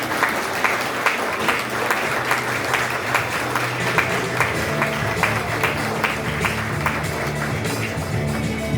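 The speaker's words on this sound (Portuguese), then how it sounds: "com o nosso aplauso, mais uma vez, a nossa gratidão à nossa convidada" Steady audience applause for a guest speaker at a municipal health conference, dense clapping filling the room at an even level for several seconds without a break.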